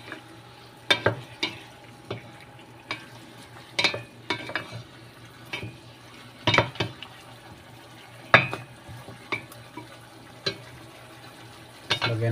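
Adobo chicken with mushrooms stirred in a pan, a soft sizzle underneath with repeated clinks and scrapes of a utensil against the pan at irregular intervals.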